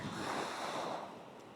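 Ocean surf at La Union beach in the Philippines, a steady broadband wash of waves with some wind, moderately loud and continuous, with no voices.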